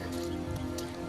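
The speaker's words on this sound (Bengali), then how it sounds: "দেখো অনেক বৃষ্টি পড়তেছে এই মুহূর্তে" Heavy rain pours down steadily during flooding, a dense close hiss with scattered drops, continuous and unbroken across the short stretch.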